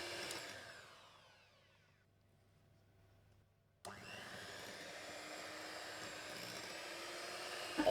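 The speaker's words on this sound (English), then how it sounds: "While I was whisking the cake" A whisk's motor whirs through banana choc chip loaf batter, winding down into near silence and then starting again with an abrupt jolt into a steady, loud whine.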